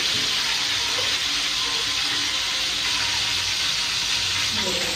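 Steady loud sizzling of chicken karahi frying in a pan as red chili goes in, a continuous hiss with faint stirring, no talk over it.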